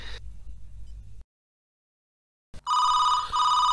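A telephone rings loud and close, sounding twice in succession after a brief stretch of low background noise and a moment of silence.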